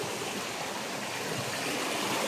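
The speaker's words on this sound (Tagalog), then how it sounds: "So ito na, malakas na talaga yung tubig guys." Strong stream water rushing steadily and loudly alone, a dense continuous roar near a rock formation with an underwater tunnel.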